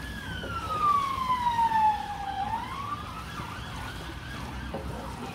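An ambulance siren wails outside with a falling pitch sweep, loudest early on and fading as it passes, over steady traffic rumble from the road behind.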